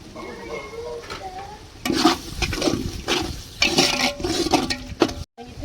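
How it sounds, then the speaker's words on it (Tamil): Water is poured into a pot for cooking rice in bursts of splashing and gurgling, fairly close, with short pauses between pours. "பானையில இருக்கலாம், அந்த தண்ணியை ஊத்து."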